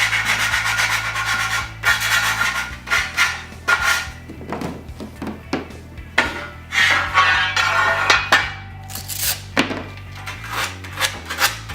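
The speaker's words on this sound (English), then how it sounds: "I'm setting the burrs off the track so it doesn't cut somebody." A file scrapes burrs off the cut end of a metal pocket door track in short, uneven rasping strokes close by, mixed with light knocks and rubbing as the track is moved.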